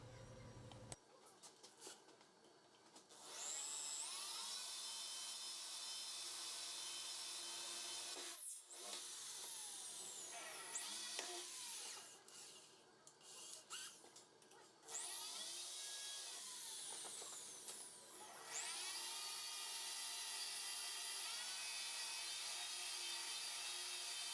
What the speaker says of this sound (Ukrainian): Тепер потрібно просверлити отвори для закріплення щита на станині. Використовую дриль, сверло на 4 мм і машинну оливу.